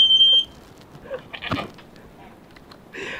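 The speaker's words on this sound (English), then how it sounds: "let's make a fire alarm test" A smoke alarm sounds a short piercing high-pitched beep during a home fire alarm test, followed by quieter rustling and faint background sounds.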